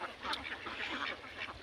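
Ducks at a riverside duck farm quack in a loose, overlapping chorus, several birds calling at once at moderate distance, with no speech over them.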